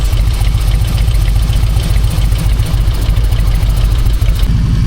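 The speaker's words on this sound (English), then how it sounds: "I'm actually having to just keep the engine ticking over, but because I'm not used to this, I keep revving it too much" A motorcycle engine idles loudly and close with a steady low throbbing rumble, its revs rising and falling slightly while it ticks over, on a roadside trip through the Rif mountains in Morocco.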